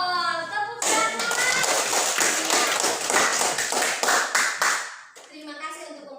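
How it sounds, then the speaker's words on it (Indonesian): Schoolchildren in a classroom clap their hands together in a quick rhythmic burst of sharp, loud taps lasting several seconds, with a teacher's voice speaking just before and after. "Tepuk tangan."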